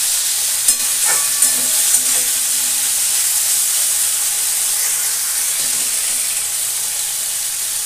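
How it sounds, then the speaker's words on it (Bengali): Ridge gourd is stirred in a hot pan with a little water and sugar, a steady close hiss of frying broken by a few light spoon scrapes early on. "দিয়ে একটু নাড়াচাড়া করবো"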